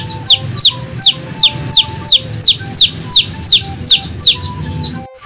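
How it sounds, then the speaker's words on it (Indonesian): A chick's repeated high, bright peeping calls in a steady rhythm, about a dozen in five seconds, close and clear over a low rumbling background. "ini adalah hewan anak ayam"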